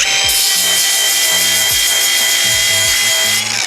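A Milwaukee M18 FSAGV125XPDB-0X cordless 125 mm angle grinder grinding steel with a steady, loud high-pitched whine and gritty abrasive hiss that runs continuously, briefly sagging in speed near the end.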